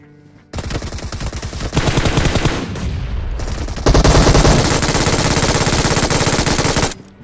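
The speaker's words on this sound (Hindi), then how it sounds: "सिंगल शॉट मार रहा मैं" Automatic gunfire in the mobile battle royale game BGMI, several dense sustained bursts of rapid shots with brief gaps between them, loud and close, with no talk.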